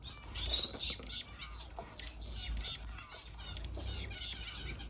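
Pet finches in a bird room chirp and tweet in quick, bright bursts that overlap almost continuously, close and lively, with a faint low rumble underneath and no talking.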